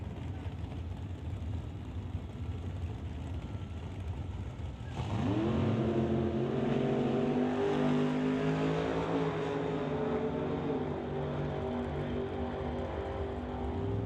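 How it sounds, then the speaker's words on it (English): A Chevrolet Z28 Camaro at a drag racing event roars off after a distant idle, its engine climbing through rising, revving gear pulls that stay loud and sustained as it runs down the strip. "so the win light to Kathy Freeborn, and the Z28 Camaro goes 858. 858 at 159 miles an hour"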